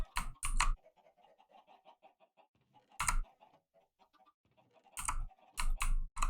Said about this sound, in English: we've got some adult chickens in there